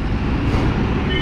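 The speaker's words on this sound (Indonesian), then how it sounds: "Nah, ini bis-bis nanti seperti ini yang akan mengangkut jamaah." Buses that carry Hajj pilgrims in Makkah give off a brief, steady engine rumble mixed with roadway traffic noise, heard up close and loud.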